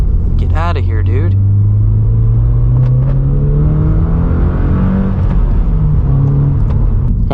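A 2022 Subaru BRZ pulls hard through traffic in the Tampa area, its engine droning and rising steadily from inside the cabin, with a voice talking over the sustained rumble.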